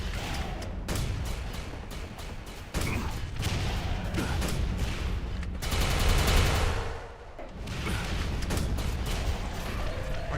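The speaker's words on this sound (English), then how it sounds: "Let's actually use a grenade launcher." Heavy repeated weapon blasts and explosions fill the Quake game action, dense and loud throughout with a big burst of booms near the middle before the firing resumes.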